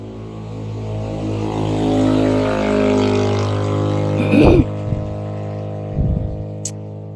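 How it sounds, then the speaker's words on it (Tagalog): A motorcycle engine hums close by with a steady low tone that rises and then falls off, and a few short voice sounds come in near the end. "Kabati kas tingog sa motor nak?"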